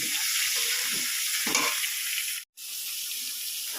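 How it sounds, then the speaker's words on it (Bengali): Small chopped pieces frying in hot oil while being stirred give a loud, steady sizzle with soft scraping stirs underneath and a brief cut-out partway through. "তেলের ওপরে দিয়ে ভালো করে এবারে নাড়িয়ে চাড়িয়ে নেব"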